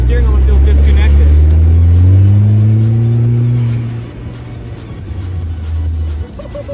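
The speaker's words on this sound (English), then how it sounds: "Exhaust as well is just absolutely incredible." A 2022 Vanderhall Venice three-wheeler drives close and loud, its engine and exhaust revving with rising pitch for several seconds before easing off to a lower drone.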